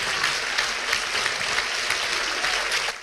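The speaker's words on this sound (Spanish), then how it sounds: "si vas a aplaudir para Él," Steady applause from a church congregation fills the space, a dense continuous wash of clapping with no break and no voices standing out.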